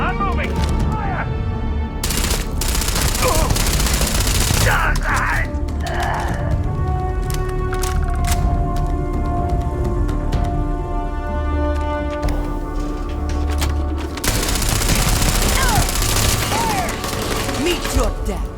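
Sustained laser-like and ballistic gunfire in Starfield, with rapid shots and heavy booms over a combat soundscape, and voices shouting lines through the firefight.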